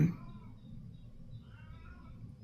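Kitten meowing from a short distance, a few faint, thin mews that wobble in pitch over a quiet room.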